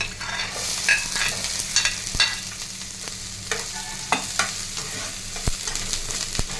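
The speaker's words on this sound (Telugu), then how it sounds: "బాగా ఫ్రై చేయాలి. ఆనియన్స్ ఫ్రై అవుతున్నప్పుడు" Onions and green chillies fry in a spoon of ghee for a ragi vegetable soup, giving a steady soft sizzle with occasional stirring scrapes and taps of a spoon on the pan, close and without talk.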